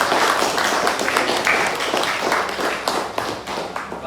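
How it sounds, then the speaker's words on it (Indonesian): Classroom of students claps hands together, a loud, busy patter of many quick overlapping claps that carries on evenly for several seconds before thinning slightly toward the end. "Ya, kita kasih tepuk tangan dulu."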